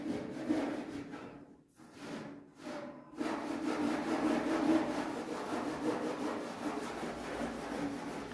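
Saw cutting through a dented, beat-up drive shaft under a 1969 GMC short bed truck: a steady rasping scrape that runs continuously after a couple of brief pauses, close and fairly loud.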